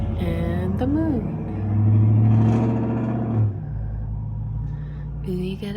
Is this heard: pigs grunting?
no